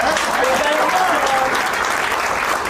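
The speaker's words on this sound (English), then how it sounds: "Round of applause for that" Loud, continuous applause from a crowd at a company's fifteenth anniversary celebration, a dense steady wash of clapping with a faint murmur of voices beneath.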